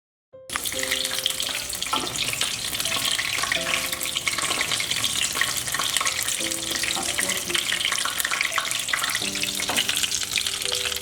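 Pumpkin flowers coated in batter fry in hot oil, giving a steady, close, loud sizzle that runs throughout, with brief faint tonal bits and no talking.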